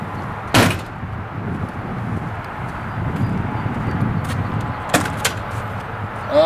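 The storage compartment door on a 2018 Newmar Ventana 4369 diesel motorhome opens with a sharp latch click, another clack follows a few seconds later, and a low steady hum runs throughout.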